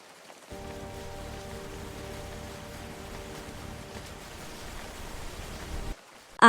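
Steady rain falls in a continuous, even hiss for about five seconds before cutting off abruptly, with a brief sharp noise at the very end.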